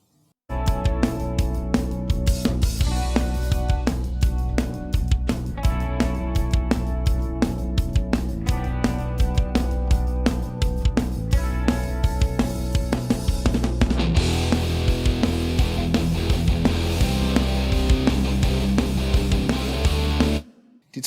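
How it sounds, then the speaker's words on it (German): Guitar track mixed with bass and drum kit during a rock song mixing session, playing as a loud, dense full-band passage that runs steadily and stops abruptly at the end. "hören wir uns das Ganze mal mit Bass und Drumset an"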